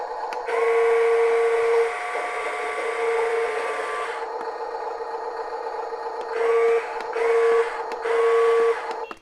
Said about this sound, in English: Here's how it sounds if the sound kit's on.